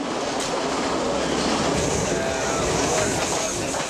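A passenger train rattles along the tracks from Kandy toward Nuwara Eliya in Sri Lanka, its steady clatter and rumble loud and close throughout, with faint voices mixed in beneath the continuous rolling noise.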